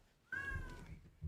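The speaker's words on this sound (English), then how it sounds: "I hear Kitty. Yeah, that's I'm sorry, my cat." A pet cat gives one drawn-out, clear meow followed by a shorter trailing call, close to the microphone and faint in level, heard on its own without speech.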